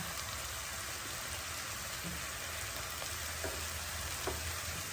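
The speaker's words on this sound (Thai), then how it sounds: "ทอดหอมให้ เป็นใส ๆ นะคะ หอมอันนี้เราจะเอาไปทำซอสสเต็กด้วย" Sliced shallots fry in a pan for a steak sauce, a continuous soft crackling sizzle with occasional faint pops and stirring, heard close by with no talking.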